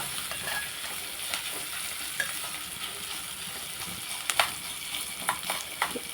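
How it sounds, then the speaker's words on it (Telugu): Water is added to an onion curry sizzling in a pan, producing a soft, continuous sizzle with scattered stirring scrapes and a few brief sharper crackles toward the end. "ఇందులో వాటర్ వేస్తున్నాం"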